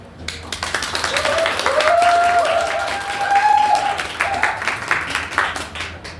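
Welcoming applause from the audience at the founding ceremony of a gymnastics association, greeting its first president before the inaugural address; dense, steady clapping that swells in the middle, with a faint sustained tone above it.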